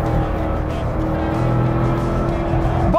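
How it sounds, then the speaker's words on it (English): A cheap Italian supercar, bought for $9,000, running hard with a loud, sustained engine roar rich in droning tones, holding steady and close before a brief rising whine at the very end. "That's a race car noise."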